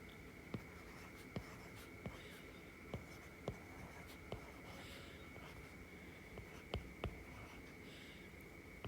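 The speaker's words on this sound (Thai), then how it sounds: "อ่ะครูเขียนคำตอบลงไปก่อน" A teacher writing out a math answer, with faint scratchy pen strokes and periodic light taps over a steady background hum, quiet and close.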